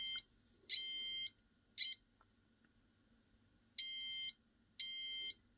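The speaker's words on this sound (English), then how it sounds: "Just sounds like a solid beep, right?" Clear electronic beeps from a small passive buzzer on an Arduino: two short tones, a pause, then two longer tones, loud and steady-pitched against a quiet background.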